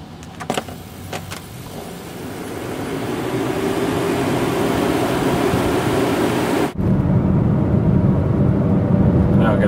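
Inside a moving Toyota RAV4 EV with a Tesla electric drive motor, a steady tonal whine hums under broad road and wind noise, with a few clicks early on, and the cabin roar swells as the drive goes on.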